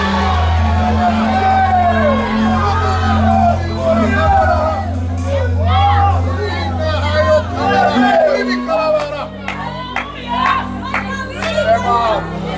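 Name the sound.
congregation shouting glory to God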